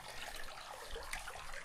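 Water poured or sprinkled onto plants in a Nepalese village, a soft steady splashing and trickling close by, fairly quiet with a few small surges and no talking.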